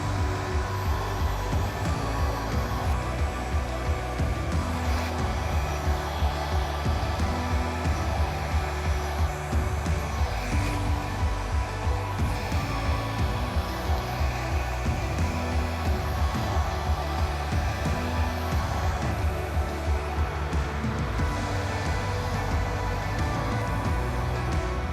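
A blower, like a hair dryer, runs continuously at close range, pushing thin acrylic paint across a stencilled pour, with a steady loud whirring hum and no pauses.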